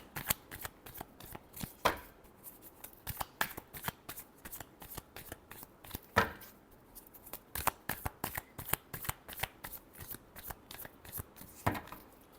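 Tarot cards being shuffled by hand, a long run of crisp riffling slaps and flicks in an uneven rhythm, close and clear with no talk.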